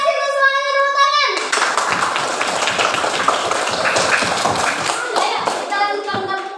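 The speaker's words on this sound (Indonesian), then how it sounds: "makasih untuk semuanya, tepuk tangan." A classroom of children breaks into applause, dense clapping close by from many small hands, starting abruptly after a child's sung or drawn-out voice and continuing for several seconds before voices return.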